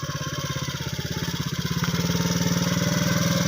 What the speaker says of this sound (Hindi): आजकल ऐसा मोटरसाइकिल आ गया, बिल्कुल ज़बरदस्त है